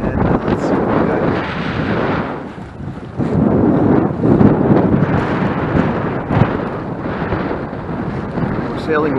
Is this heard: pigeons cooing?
no